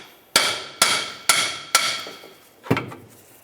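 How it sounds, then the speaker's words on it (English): A small hammer strikes a lateral link on a 1999-2003 Toyota Solara suspension five times in a steady rhythm, sharp ringing bonks with brief decay, close by and without voices. "I'm just going to go ahead and use a little hammer, give it a loving bonk"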